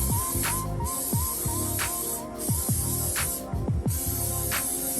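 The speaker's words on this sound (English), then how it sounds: "first I'm going to spray each one of them with canola oil" A can of canola oil sprays into serving bowls in several short bursts, each a sharp close hiss, over a steady musical background.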